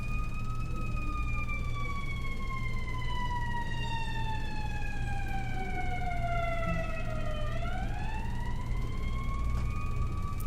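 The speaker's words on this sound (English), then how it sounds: "Cue siren." A siren wails in long sweeping tones that slowly fall and then rise again, heard at moderate distance over a steady low hum, with no talking.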